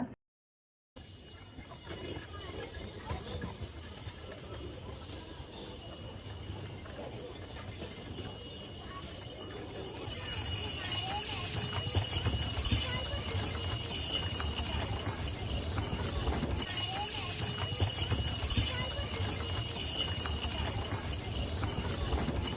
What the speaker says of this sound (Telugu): ఎద్దుల మెడలో గంటలు గలగలలాడుతూ గనగన మోగుతుంటే ఇలా ఎద్దుల బండిలో తిరగడము